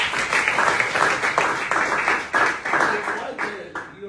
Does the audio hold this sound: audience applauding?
yes